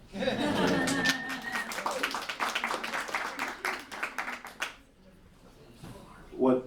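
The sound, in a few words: audience clapping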